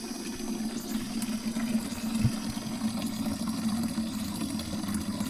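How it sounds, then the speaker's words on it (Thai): Mountain drinking water runs out of a long hose in a remote forest village in Laos, a steady, low gushing flow that stays constant and close throughout, with no voices. "น้ำกินที่ได้พี่น้องต่อสายยางมาแต่ภูเขาพุ่นละจุดพุ่นจะเป็นน้ำไหลลง"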